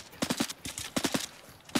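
Faint, distant gunfire from the video game Arena Breakout: Infinite, coming as short rapid bursts of about three shots each, spaced apart and fairly quiet.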